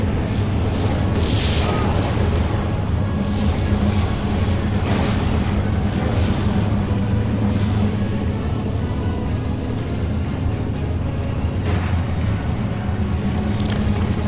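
An off-map artillery strike in the Steel Division video game lands as a continuous heavy rumble of deep booms and blasts. The barrage rolls on steadily and loudly throughout, with occasional sharper bursts rising above the din.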